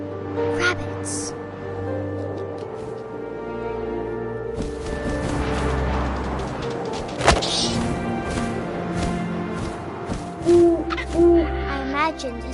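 Owl hooting in the video game What Remains of Edith Finch, soft repeated hoots over wind-like ambience, swelling music and thumps, with a voice speaking throughout.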